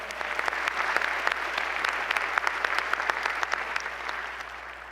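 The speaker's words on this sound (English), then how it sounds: "A round of applause for all of them also." Audience applause at the 2025 State of the City University of New York Address, a dense, steady clapping from a large crowd filling the hall and fading slightly at the end.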